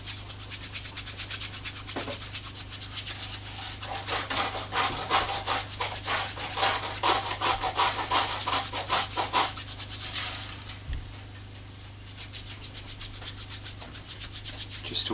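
Hands rub firmly over leather for a shoulder bag, warming it in a steady, close scraping-rub rhythm that swells and fades with no talk.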